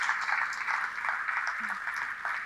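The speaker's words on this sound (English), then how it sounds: "I'd love if you can clap them" An audience at a conference applauding panelists, a steady wash of many hands clapping at moderate distance, sustained evenly throughout.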